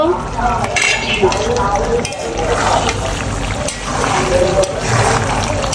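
Beef pickle with dry chilli, coriander and five-spice being stirred in a pan, giving continuous clatter of a spoon scraping metal and wet, sticky churning, close and loud, with occasional indistinct voice in the background.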